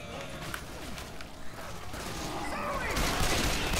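A gas can is shot in the co-op zombie shooter Left 4 Dead 2, with a thick rattle of gunfire and game chaos that swells louder toward the end, under faint voices.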